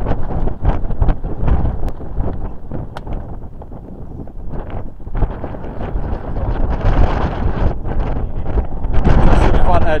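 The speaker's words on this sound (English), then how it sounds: "Downwind as well, quite a strong wind as well." Strong wind buffets the microphone on a golf course, a steady low roaring rumble that swells louder toward the end, with voices talking intermittently over it.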